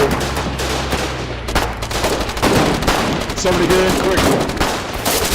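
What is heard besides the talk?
gun firing in a video game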